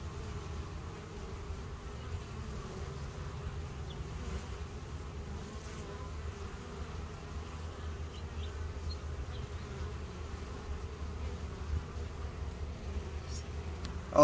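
Honeybees buzz steadily around an open three-story colony in a six-frame deep Lyson hive, a dense, continuous low drone of many wings close by with no talk, holding even throughout.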